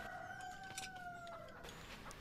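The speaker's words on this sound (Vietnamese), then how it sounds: "Ngươi không biết con gà trống kia của chúng ta là dùng đến gáy sao?" A rooster crows in a long, drawn-out call at moderate distance, fading around the middle while faint background ambience continues, with no speech.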